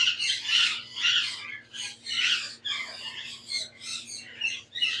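Blue ringneck parrots squawking in a bird shop, a string of harsh, shrill calls that keep overlapping, close and loud, with a low steady hum underneath.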